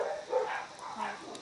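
Barking from a couple of dogs at a bush campsite, some distance off and moderately loud, coming in a few uneven bursts.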